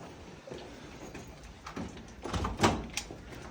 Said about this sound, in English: Double doors.